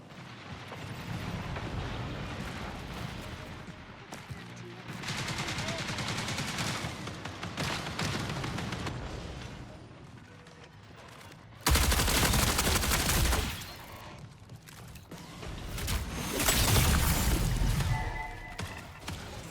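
Gunfire from a fight in the sci-fi shooter game Marathon, heard as bursts of rapid shots and booming impacts from nearby, rising and falling in loudness, with a sharp heavy volley near the middle and no speech.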